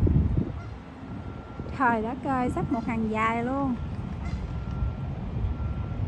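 Canada geese honking in a long series of harmonic calls, several birds overlapping in a rising and falling chorus outdoors near water, with a person talking over it.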